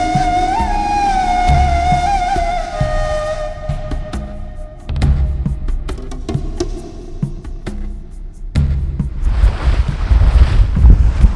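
A dhow cruises through the mangroves near Lamu, Kenya, with a steady low engine hum, heavy wind buffeting the microphone and water rushing against the hull, growing louder and rougher toward the end.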